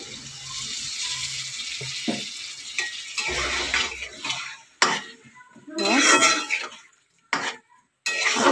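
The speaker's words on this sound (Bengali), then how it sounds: "লঙ্কা দেওয়া জলটা ঢেলে দিলাম।" Chili water is poured into a hot pan of rohu fish head and potatoes, sizzling and hissing in bursts amid clattering spoon and pan noises, close and moderately loud.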